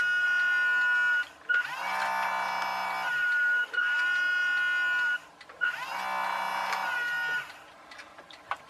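Electric motors of a radio-controlled RNLI lifeboat model spinning up in bursts: a high whirring whine with buzzy overtones, running about two seconds at a time with short pauses between, close and fairly loud.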